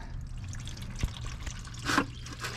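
Hot engine oil drains from a 2.5L Toyota Camry into a catch pan, a soft continuous trickle with a few drips and a brief splashier surge near the end, heard close and alone.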